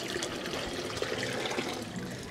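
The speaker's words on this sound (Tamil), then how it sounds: "நான் தண்ணி வந்து ஊற்றிக்கிறேன்" Salt water is poured into a homemade fish tank: a steady, close splashing trickle runs continuously with no pauses.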